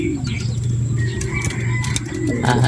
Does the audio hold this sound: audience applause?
no